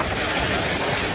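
Strong hurricane winds from Hurricane Irma roar loudly and steadily against the microphone along the Florida coast, a dense, unbroken buffeting rush with no talk.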